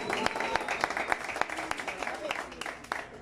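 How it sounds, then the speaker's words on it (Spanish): Applause at a mariachi birthday serenade, a steady crackle of many hands clapping close by, mixed with voices and a faint tonal background throughout. "ese aplauso bien bonito que se escuche."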